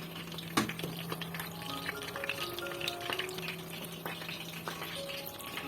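Chicken kabab patties fry in hot oil in a frying pan with a soft, steady sizzle and fine crackling. A steady hum runs underneath, with occasional light knocks from handling.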